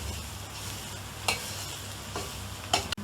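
A spatula stirs fried chili cauliflower in a pan, with quiet, soft sizzling beneath a few distinct scraping strokes and a sharp knock against the pan near the end.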